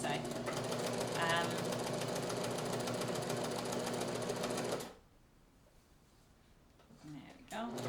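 A sewing machine hemming a chiffon dress runs at a fast, steady, loud mechanical whirr and stitching rattle, then stops, leaving near quiet before a few soft handling sounds.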